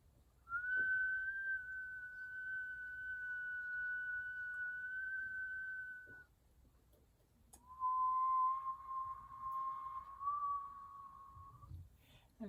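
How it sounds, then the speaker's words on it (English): Two long steady whistled tones from a breathing practice, the first held about five seconds at a higher pitch and the second slightly lower, each sustained and fairly loud, with quiet breath between them and no talking. "So the whistle breath, it changes your circulation."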